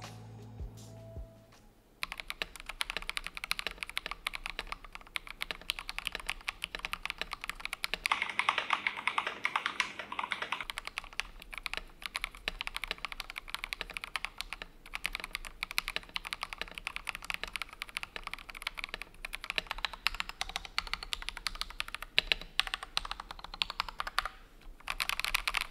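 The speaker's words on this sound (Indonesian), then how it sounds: "Kita typing test." Someone runs a typing test on a cheap, self-assembled computer keyboard, and a steady, dense stream of close key clacks continues for over twenty seconds with no talking.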